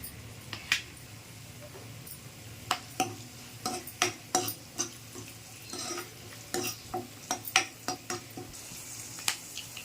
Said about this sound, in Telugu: బాగా మరిగే ఆయిల్లో ఒక రెండు బిర్యానీ ఆకు వేసుకుంటున్నానండి అలాగే ఒక నాలుగు పచ్చిమిర్చి పొడవ కట్ చేసుకుని వేసుకుంటున్నాను